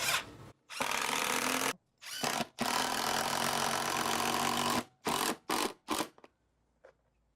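A power drill drives long screws into a front entry door jamb plate, several loud close bursts of whirring, one long run followed by short pulses, then quiet.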